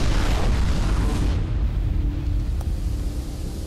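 A fiery explosion in the video game Mirror's Edge bursts out as a deep, broad boom, then rumbles and slowly fades over a few seconds.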